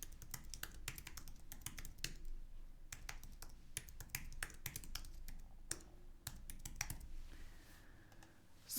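Quiet typing on a computer keyboard while searching a library lending app. Irregular clusters of light, crisp key clicks run throughout, close and soft, with short pauses between bursts.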